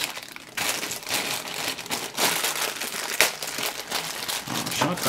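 Plastic pouch holding a power adapter crinkles and rustles steadily as it is handled while unboxing an ATEM Mini Pro, close and fairly loud, with sharper crackles throughout.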